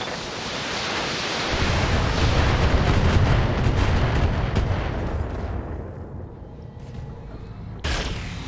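Heavy weapons fire from the BattleTech video game booms in a dense, rumbling barrage that swells after the first second and slowly thins toward the end, finishing with one sharp burst.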